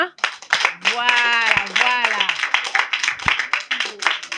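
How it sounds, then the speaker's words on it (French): Audience clapping at a foundation celebration honoring a mother's birthday in Congo, a dense burst of applause lasting several seconds, mixed with loud voices and cheering calls over it. "Est-ce qu'on ne peut pas applaudir pour maman?"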